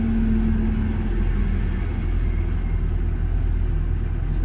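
A diesel machine with an AdBlue system idles steadily while warming up, a constant close low rumble that stays even throughout with no voices.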